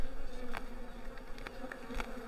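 Honeybees buzz steadily around the queen inside an urban or countryside hive, a dense close-up drone with brief louder swells as bees pass near, and no talking.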